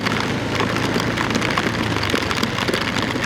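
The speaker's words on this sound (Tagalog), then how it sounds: "bigla bumuhos po yung malakas na ulan." A loud, unbroken downpour drums on a nearby surface, thick and steady from start to finish.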